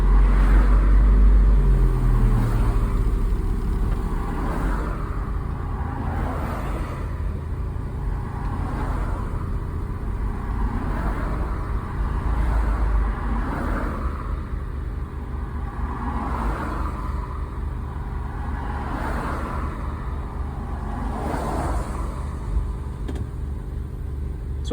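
A 1988 Mazda B2200 pickup truck on a test drive after a transmission oil change, its engine humming steadily from inside the cab with gentle rises and falls as it moves along the road.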